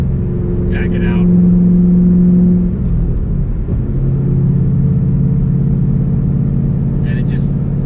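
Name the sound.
2013 Shelby GT500 engine revving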